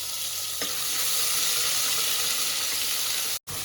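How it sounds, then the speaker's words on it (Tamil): Fennel seeds, cinnamon, cloves and ginger-garlic paste tempering in hot oil for Kumbakonam kadapa give a steady, close, bright sizzle with no talk, cut by a brief silent gap near the end. "2 பெருஞ்சீரகம், பட்டை, லவங்கம் 2 போட்டு இதை தாளிச்சிக்க வேண்டியதான்"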